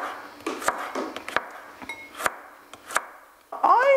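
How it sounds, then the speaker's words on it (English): Knife chopping fresh cilantro and mint on a board for a Thai beef salad, a run of quick uneven taps with short pauses, close and clear, ending with a brief clink. "all I'm going to do now is chop them all up and into bite-sized pieces"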